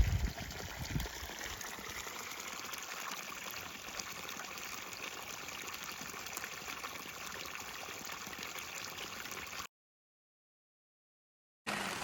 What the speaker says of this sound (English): Beautiful water.